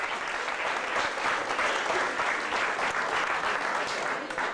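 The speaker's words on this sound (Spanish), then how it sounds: "Fuerte el aplauso para él en esta noche espectacular." Sustained applause from a party crowd at a quinceañera celebration, dense and even clapping that stays loud and steady for several seconds with faint voices mixed in.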